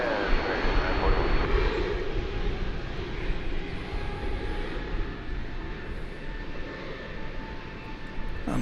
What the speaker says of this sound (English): It's an Airbus A220. Listen for it.